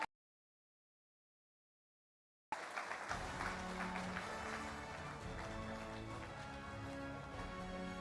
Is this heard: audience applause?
yes